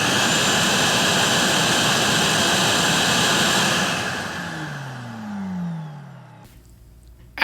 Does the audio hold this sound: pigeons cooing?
no